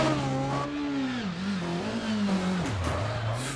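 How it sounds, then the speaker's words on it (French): A Peugeot 306 rally car engine roars steadily at high revs throughout, pitch rising and dipping with gear changes and throttle lifts on a stage, loud and close with no talk over it. "Toujours le son aussi démentiel de cette 306, que ce soit en onboard ou en vue extérieure."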